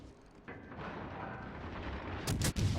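Battleship guns fire in the naval video game World of Warships: Legends, with muffled rumbling booms building up and a sharp burst of blasts near the end, all fairly quiet.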